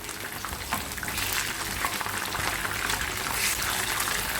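Prawns for a prawn chilli frying in hot oil, a steady broad crackle and hiss with faint stirring taps, continuous and close with no talking.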